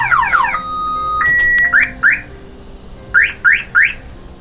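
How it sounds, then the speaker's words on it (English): An aftermarket car alarm on a BMW 3 Series blares through a cycle of electronic tones: rapid descending chirps, a steady held note, then a series of short rising whoops, loud and close. "So my alarm went off"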